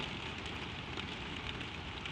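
Soft, gentle rain falling far away on a quiet night, a steady even hiss with faint patter and no voices.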